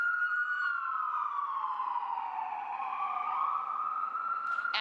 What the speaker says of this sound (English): Let me know if you can't hear me because there's an ambulance going by right now, Wolf.